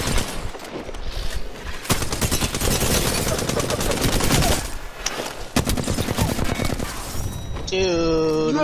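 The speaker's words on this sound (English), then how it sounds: "Getting shot at." Rapid gunfire in a video game shooter, dense bursts of automatic fire crackling loudly and almost continuously, with brief pauses and a tonal electronic sound near the end.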